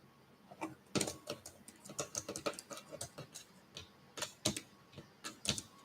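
Typing on a computer keyboard set on a wobbly table, heard as quick irregular clusters of sharp clicky keystrokes up close with short pauses between bursts.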